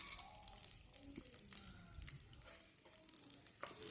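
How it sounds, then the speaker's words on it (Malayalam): Cashews roast in ghee in a pan with a soft, faint, continuous sizzle and light crackle, and a voice is briefly audible in the background. "ഈ കാഷ്യൂസ് ഒന്ന് വറുത്തെടുക്കണം"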